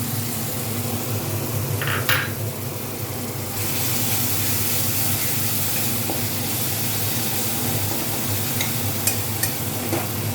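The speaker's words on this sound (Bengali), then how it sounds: "টমেটোটা এইরকম একটু ভাজা ভাজা হয়ে যাওয়ার পরে আমি এই" Mustard paste hitting a pan of lightly fried tomato for a parshe fish mustard curry, giving a steady loud sizzle and hiss with stirring scrapes throughout.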